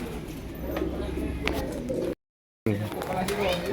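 Racing pigeons coo in a loft during a derby, soft low coos close by with faint bird calls around them. There is a brief gap of silence partway through.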